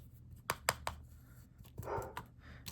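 Indoor puppy barking in a string of sharp, separate yaps, several spaced barks followed by a cluster later, fairly close but not loud.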